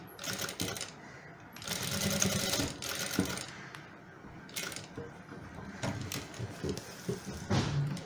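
Sewing machine stitching a shirt collar through canvas interlining, heard as quiet, intermittent runs of rapid mechanical clatter separated by short pauses.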